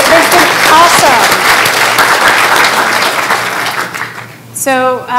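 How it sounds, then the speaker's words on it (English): Conference attendees at a time-series meeting give a loud round of applause for the caterers: full crowd clapping that gradually thins and fades, followed by a person starting to speak at the very end. "So let's give a big round of applause for our caterers."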